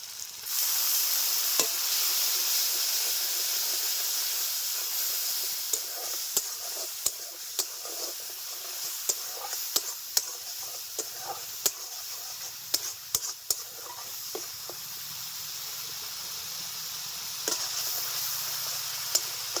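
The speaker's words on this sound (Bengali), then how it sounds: "একটু জল দিয়ে মশলাটাকে ভালো করে কষিয়ে নেবো" Village-style cooking for a crab dish: spice paste with black pepper, Kashmiri red chili powder, salt and a splash of water fries in a pan. The sizzle starts loud and softens, punctuated by frequent sharp spatula taps and scrapes.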